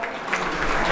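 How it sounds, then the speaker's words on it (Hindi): An audience claps to welcome a speaker at an education event for scheduled-caste teachers and students at a degree college in Uttar Pradesh. The applause is steady and swelling, filling the hall briefly with no voice over it. "तो तालियों से स्वागत कीजिए विनोद जी का"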